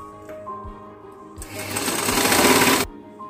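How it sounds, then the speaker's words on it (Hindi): A sewing machine runs in a short, dense burst of rapid stitching on a folded strip of blouse fabric, close and loud, starting after a second of low hum and ending abruptly. "अभी यही सिलाई पे इसे हम फोल्ड करके सिलाई मारेंगे"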